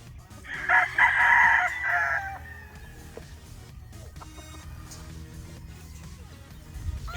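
A sweater-breed gamecock crows once, loud and close, with a long drawn-out call at a stag show booth, followed by low background murmur and farmyard noise.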